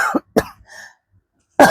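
Two sharp, close coughs in quick succession, a brief raspy throat sound, then a third cough after a short pause.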